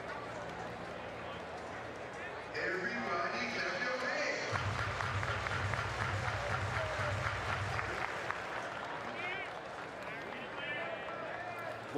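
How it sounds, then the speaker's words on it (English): Baseball crowd at a Texas versus Rice game claps hands in response to a stadium call, a broad, fairly distant roar of clapping and crowd noise building midway, with a public-address voice and game sounds mixed in. "Everybody clap your hands."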